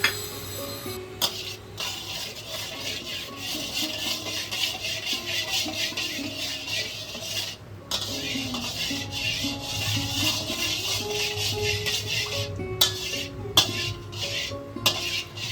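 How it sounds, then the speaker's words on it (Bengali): A spoon scrapes and clinks in a pan as a spoonful of sugar caramelizes for a traditional Bengali chana dal dhoka, producing repeated metallic stirring knocks over a constant low sizzle, close and fairly loud. "চিনিটা আমাদের ক্যারামেলাইজ হয়ে গেছে।"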